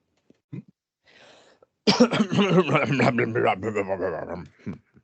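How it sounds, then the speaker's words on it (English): A short throat clearing and a cough come first, followed by a stretch of close speech, with another brief throat noise at the end. "That's me clearing my throat to be sensible, you know."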